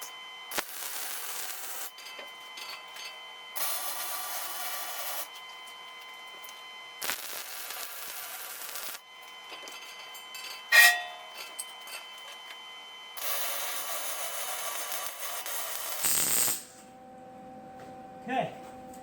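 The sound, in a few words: welding joints on a steel welding table frame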